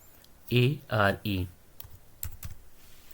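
A computer keyboard is typed on during a computer class. A voice comes first, then a few quick, close keystrokes follow.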